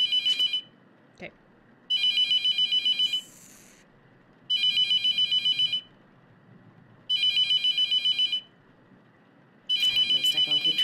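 A loud electronic telephone ring repeats in The Mortuary Assistant, five evenly spaced bursts of fast trilling with short silences between, over a low background hum.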